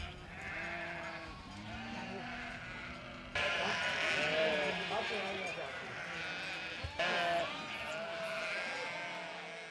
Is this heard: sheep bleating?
yes